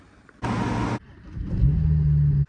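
A 2007 BMW 335i engine being jump-started: a brief harsh cranking burst, then the engine catching and running with a rising rev, close by.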